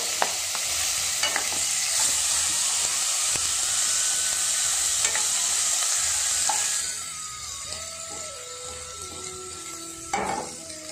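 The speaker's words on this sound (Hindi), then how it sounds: "और फिर मैं इसमें ऐड कर दूँगी ये अदरक, लहसुन और ग्रीन चिली।" Ginger, garlic and green chili sizzling in hot oil with curry leaves in a pan, a loud steady hiss with occasional spoon stirring and scraping, the sizzle easing partway through.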